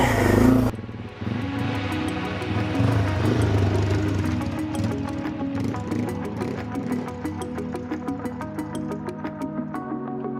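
A Yamaha TW200 dual sport motorcycle ridden along a trail, its small single-cylinder engine droning steadily near and loud with shifting revs, fitted with an aluminium phone mount.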